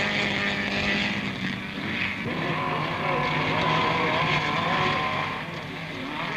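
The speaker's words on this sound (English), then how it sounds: "The Spitfire brushes by." Spitfire sports car running at a 1970s autocross, its engine a steady, loud drone whose pitch rises and falls as it passes, with no talking.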